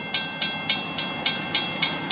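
CSX freight train passing southbound, a regular rapid series of eight sharp hissing, clacking bursts about a third of a second apart, loud and near with no voices.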